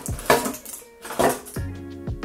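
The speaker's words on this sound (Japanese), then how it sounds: "これで蓋をして" Metal lid set down on a frying pan while pan-baking cream buns on the stovetop, giving a couple of sharp clattering clanks with a brief ringing tail, close and clear with no talk.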